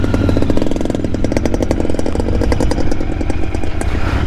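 Royal Enfield Interceptor 650 motorcycle riding during a monsoon ride south of Pune, its engine thrumming loudly and steadily with rapid firing pulses and wind and road noise throughout, no talk.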